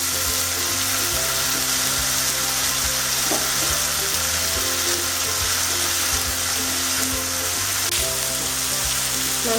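Chicken pieces fry in a pan for a Bengali-style dish, giving a loud, steady sizzle with occasional stirring scrapes throughout and no voices.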